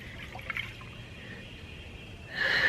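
A container of sodium hydroxide solution holding dissolved hair is shaken; after a quiet stretch, a loud, close burst of liquid sloshing fills the last moments.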